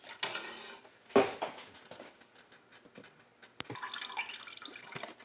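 Beef broth poured into a pot for French onion soup, a quiet close splashing and trickling with soft clinks and taps from the container, no talking.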